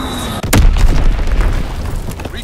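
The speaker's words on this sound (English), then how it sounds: "Dropping Blitz-X bomb." Blitz-X bomb exploding in Call of Duty WWII, one sudden deep boom hitting close and loud, then a heavy rumbling roar that sustains and slowly fades, with no voices over it.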